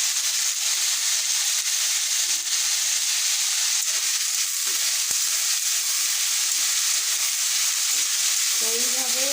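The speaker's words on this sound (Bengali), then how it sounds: "এইভাবে হালকা আছে একটু একটু করে ভেজে নেব।" Steady, close sizzling of frying in a pan after salt and turmeric are added, continuing loudly throughout with brief faint stirring, and a short voice near the end.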